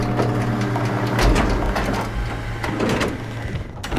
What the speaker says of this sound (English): You should be able to use the machines to load the bullet you assembled.